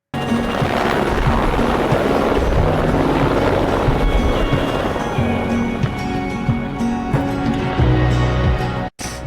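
A helicopter flying in the Himalayas, its loud, close rotor and engine drone running continuously and dominating the scene before cutting off abruptly near the end.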